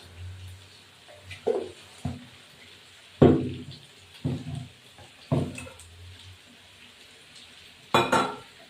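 Poppy seed paste goes into a hot pan with ridge gourd, and a utensil gives intermittent clunks and scraping bursts over a faint low sizzle. The sounds are close, separated by quiet gaps, and no one speaks.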